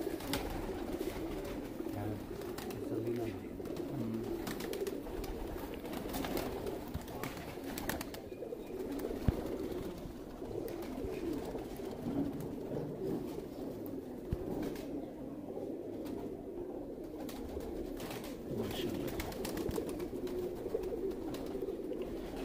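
Pigeons cooing at a rooftop pigeon-keeping spot, low soft coos repeating under steady background noise, with people talking nearby through much of it.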